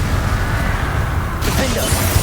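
Continuous dense crackle and rumble of spell blasts in Hogwarts Legacy combat, loud and busy throughout, with a shattering burst near the middle and small zips over the din.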